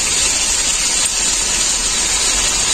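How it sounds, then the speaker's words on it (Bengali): Cauliflower frying in hot oil with salt, a loud, close, steady sizzling hiss that holds evenly without pause. "প্রথমে আমি ফুলকপিটা ভেজে নেব"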